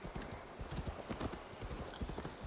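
Horse hooves clip-clop in a rapid, even trot in Assassin's Creed Valhalla, a steady run of soft thuds heard alone and fairly faint.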